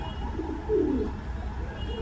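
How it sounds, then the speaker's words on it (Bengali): Domestic pigeons, including red Lahori and racer breeds nesting with eggs and chicks, give a single low, muffled coo at close range over a steady background hum. "মাশাআল্লাহ আপনাদের দোয়ায় আমার কবুতর কম বেশি সবগুলোই এখন ডিম বাচ্চায় আছে"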